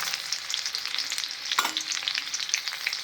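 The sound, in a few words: red chillies, urad and chana dal roasting in a pan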